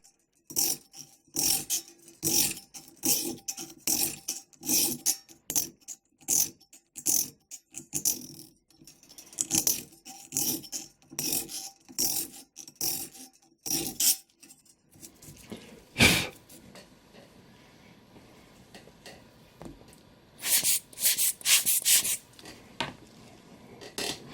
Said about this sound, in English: start filing with a semi-coarse file